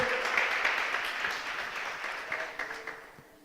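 Church congregation applauding during a sermon, a brief wash of clapping that starts fairly strong and gradually thins and fades over a few seconds.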